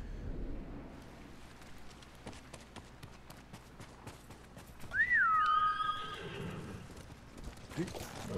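A horse in the video game Ghost of Tsushima gives a clear whinny midway through, rising then falling, over clip-clop hoofbeats and ambient game sound.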